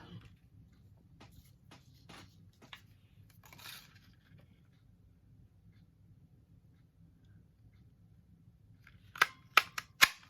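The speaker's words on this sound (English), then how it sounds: "So I'm going to stamp my flower and then cut it out with the punch, just using that little scrap." A paper punch cuts a stamped flower out of scrap cardstock: a few faint clicks and rustles early, then a cluster of sharp, close snaps near the end.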